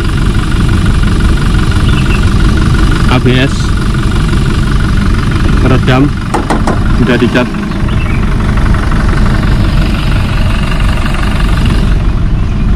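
Diesel engine of a 2021 Toyota Innova Reborn 2.4 A/T idling with the hood open and the AC off, a steady close rumble running throughout while someone talks over it.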